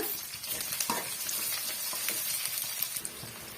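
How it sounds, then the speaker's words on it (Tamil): Crushed garlic sautés in oil in a pan, a soft steady sizzle with a few light stirring scrapes, fairly faint and close, with no talk. "பத்து பல்லு பூண்டு வந்து நசுக்கி வச்சிருக்கேங்க அதையும் சேர்த்துக்கலாம் சேர்த்துட்டு நல்லா வந்து வதக்கி விட்டுடுங்க"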